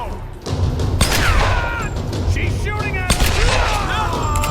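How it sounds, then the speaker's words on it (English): Gunfire in the Tomb Raider video game, with loud rapid shots and booming impacts that carry on throughout over a dense, chaotic background. "She's absolutely shooting at you."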